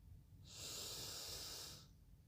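Slow, deep breath drawn in during a guided meditation, a single steady hiss of air that swells and fades over about a second and a half, close and soft, with no talking.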